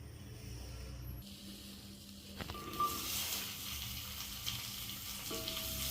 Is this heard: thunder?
no